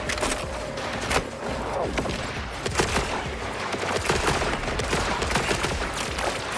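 Dense, rapid video game gunfire from a heavy-recoil gun, with overlapping bursts of shots and ongoing clatter filling the whole stretch at close, loud level.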